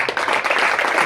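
Audience applause at a cricket talk event, a dense burst of many hands clapping, close and steady throughout.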